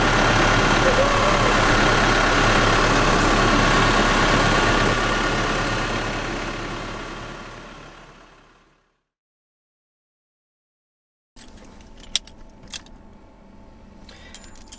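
A VW Crafter van engine idles loud and steady after an alternator replacement, its drone fading out to silence partway through, followed by faint clinks and handling noises.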